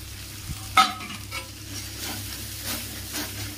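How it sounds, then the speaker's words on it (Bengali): Ginger, garlic, onion, sour yogurt and cardamom being sautéed and stirred in a pan, giving a soft, steady sizzle with faint scraping, close by but quiet, with no talking. "আদা, রসুন, পেঁয়াজ, টক দই, এলাচ সব দিয়ে এটা কষিয়ে নিই।"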